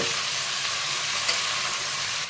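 Garlic and onion frying in a pan give a loud, continuous hiss and sizzle, steady and close throughout with no talking.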